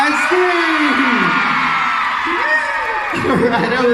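Fans scream and cheer together at a stadium fan event, a loud sustained crowd roar with rising whoops and yells that swell again near the end.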